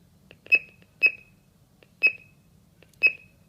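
A home security alarm system gives four short electronic beeps at even intervals about a second apart while arming, clear and moderately loud over faint low background noise.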